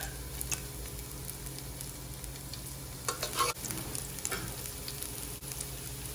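Finely chopped garlic fries in ghee in a hot pan, a steady close sizzle with occasional stirring scrapes and clicks, and no voices.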